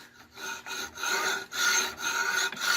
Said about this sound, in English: Cutting just a regular hacksaw blade. It's cutting right into it